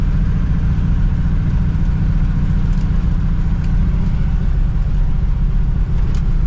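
A 1960 Pontiac Ventura hardtop engine runs with no muffler, a loud, steady, rough low rumble filling the whole stretch without a break.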